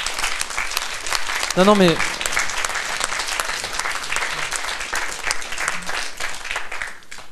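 An audience applauds for Lucie with dense, sustained clapping throughout, while a voice speaks briefly over it.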